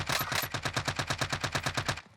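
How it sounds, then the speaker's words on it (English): Automatic gunfire in the video game Warzone: a rapid, evenly spaced burst of about twenty shots in steady rhythm, fairly loud and close, cutting off abruptly at the end with no talk. "Sounded like someone just unloaded or reloaded next to us"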